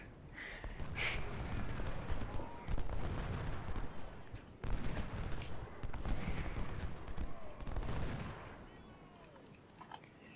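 Massed musket volleys from Civil War troops in Ultimate General: Civil War, a dense continuous crackle of overlapping gunshots with rolling bursts that swell and fade across the battle, no speech.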